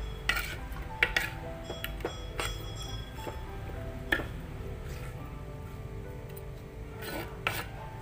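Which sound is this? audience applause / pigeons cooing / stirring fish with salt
stirring fish with salt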